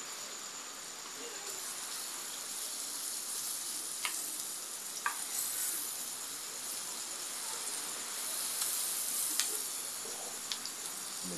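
Onions sizzling in melted margarine, a constant bright hiss of frying up close with occasional light ticks and stirring clicks, steady throughout.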